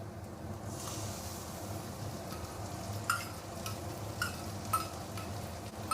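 Ginger, garlic and turmeric paste sizzles with reddened fried onions in a pan for a Bengali mutton paya curry, a steady hiss broken by occasional scraping clicks of a stirring spoon.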